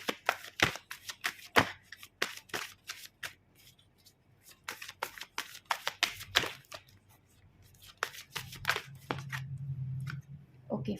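Tarot cards are shuffled and dealt by hand in a quiet room, giving a string of crisp, close riffling snaps and slaps in irregular bursts, with a faint low hum toward the end.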